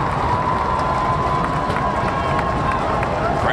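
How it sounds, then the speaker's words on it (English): Football stadium crowd roaring and cheering as the excitement builds, a dense, steady wash of many voices with a sustained whistle-like tone, loud and continuous. "Crowd getting into it."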